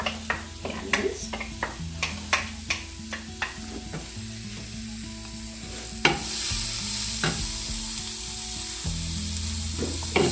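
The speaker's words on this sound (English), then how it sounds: "Saute the onions till it's a light brown" Onions sautéing in about two tablespoons of vegetable oil on medium-high heat for chickpea curry: a continuous loud sizzle with rhythmic spatula scrapes and taps against the pan, fading to steadier frying later.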